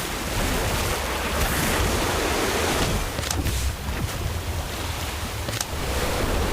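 Orb of water spell in Harry Potter: Magic Awakened makes a loud, continuous rushing surge of water like crashing surf, steady throughout with no voices.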